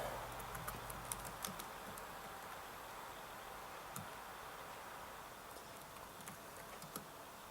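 Quiet, steady tapping of keys on a laptop keyboard, soft irregular clicks over a faint background hiss.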